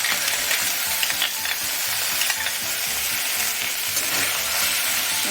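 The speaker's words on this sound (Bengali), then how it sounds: "টমেটোটাকে একটু ভাজা ভাজা করে নেব হালকা আছে।" Tomato paste frying in a pan with ginger, chilli and spice paste, giving a close, constant sizzle under repeated scraping and stirring strokes, without any voices.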